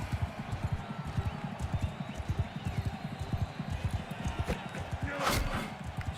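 A horse gallops in the Mount and Blade game, steady rapid hoofbeats thudding close and rhythmic throughout, with a brief swell of noise near the end.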